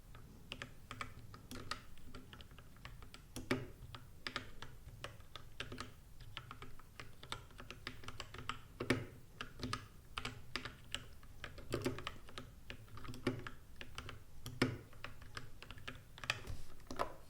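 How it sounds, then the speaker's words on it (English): A mechanical keyboard with Gateron Yellow linear switches is typed on steadily for about seventeen seconds without bottoming out, giving a close, soft, rapid patter of keystrokes with occasional louder clacks. "now I'm going to type without bottoming out"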